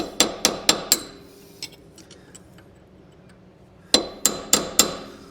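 A hammer strikes metal on a used Honda Civic to dimple it back into shape, two quick runs of four sharp ringing blows separated by a quiet gap with a few lighter taps, close and crisp.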